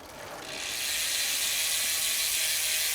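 A freewheeling bicycle hub from China spins on its own, giving a fast, even ratchet buzz from the pawls that rises within the first second and then holds steady and fairly quiet, with no talking.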